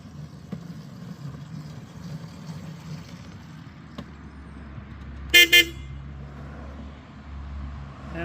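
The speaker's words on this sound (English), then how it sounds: "both horns blast when you hit the horn button" Two scratch-built electric model locomotives sound their horns together, giving two short, loud toots in quick succession over a low, steady background hum.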